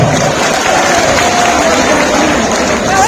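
Crowd applause at an election rally in Haryana, a dense, loud wash of clapping that fills the whole stretch without a break.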